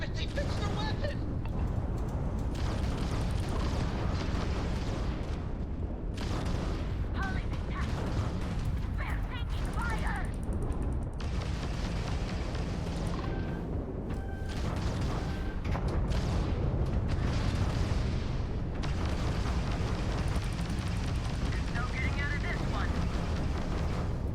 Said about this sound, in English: it's absolutely firing the energy weapons